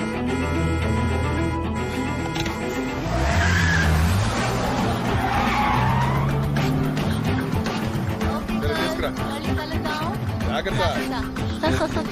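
A vehicle put in gear and driven off with tires skidding, a loud squeal and engine surge around the start, then a continuing engine drone, mixed with voices and background music throughout.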